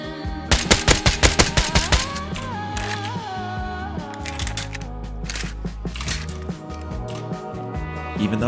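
Rapid bursts of suppressed SAR rifle fire in the Rust survival game crack out in a fast rhythmic volley, followed by more scattered shots over game music and background tones.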